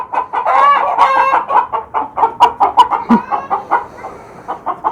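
Roosters crow and cluck loudly nearby, one long crow followed by a string of rhythmic clucking calls.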